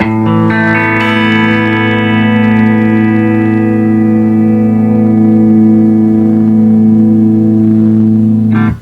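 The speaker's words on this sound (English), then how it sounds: "Switch the Dynacomp on, and what the Dynacomp does is sounds like this" Electric guitar run through an MXR Dynacomp compressor pedal, a single loud chord struck and held, sustaining evenly with little decay for about eight seconds, no voices.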